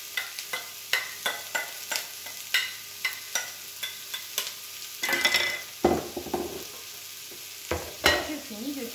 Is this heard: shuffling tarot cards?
no